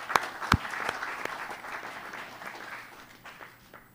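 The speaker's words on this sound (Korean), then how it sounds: "뜨거운 환영의 박수 보내주시기 바랍니다." Applause from the audience at a Korean press forum welcoming a parliamentary floor leader, a few loud close claps up front, then moderate clapping that gradually thins and fades toward the end.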